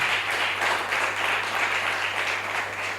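A church congregation applauding for the Lord on Easter Sunday, a continuous, even patter of many hands clapping together, moderately loud with a low steady hum beneath it.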